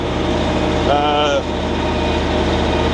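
A steady low drone from an old Ford FW30 tractor engine runs throughout, rumbling evenly, with a brief higher whine rising over it midway and a voice speaking nearby.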